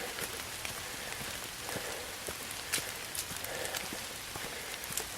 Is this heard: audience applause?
no